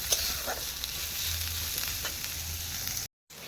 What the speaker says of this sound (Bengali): আমি দুটো মিডিয়াম সাইজ পেঁয়াজ কেটেছি আর এই মশলাগুলো খুব ভালো করে এবার গোল্ডেন ব্রাউন করে আমি ভেজে নেব